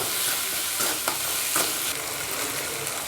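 Onions sautéed in a pan toward golden brown, sizzling steadily with a few louder scraping stirs, close up and with no talk.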